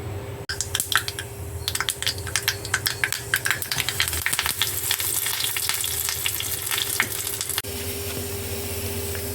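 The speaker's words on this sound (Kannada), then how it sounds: "ತುಪ್ಪ, ಒಂಚೂರು ಹಿಂಗು, ಕರಿಬೇವು ಅಷ್ಟೇ, ಸಾಸಿವೆ ಹಾಕ್ಕೊಂಡು ಒಗ್ಗರಣೆ ಹಾಕ್ಕೊಳ್ಳೋದು ಅಷ್ಟೇ ಚಟ್ನಿಗೆ" Ghee tempering for chutney, with asafoetida, curry leaves and mustard seeds, crackles and sizzles in a hot pan, a busy run of sharp pops over a steady hiss that cuts off abruptly near the end.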